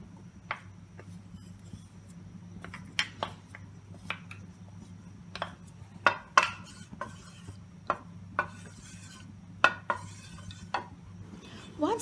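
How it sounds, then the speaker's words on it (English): A pan being heated on a medium flame as ghee is added for pumpkin rice, with irregular clinks and taps of utensils against cookware over a low steady hum, close and without talk. "Heat a pan, put in medium flame first, and then add in the 2 tablespoons of ghee"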